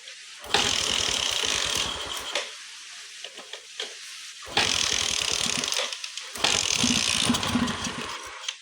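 A Bajaj Discover 100 motorcycle with a suspected carburettor fault cranks and briefly catches three times. Each burst is loud and rough, with firing pulses, and short gaps of quiet fall between them.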